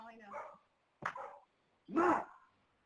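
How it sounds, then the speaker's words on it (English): Several excited household dogs bark and yip in short separate bursts indoors, three distinct barks spaced about a second apart, fairly close and loud. "my dogs are freaking out"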